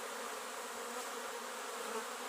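Honeybees leave the hive in the evening in a dense, steady buzzing swarm that holds evenly throughout, with no voices.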